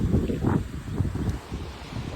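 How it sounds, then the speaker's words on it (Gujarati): Strong wind blows during a rainy-season storm strong enough to bend a coconut palm, gusting and buffeting the microphone in steady rushing waves. "બાકી પવન છે ને બહુ વધારે છે."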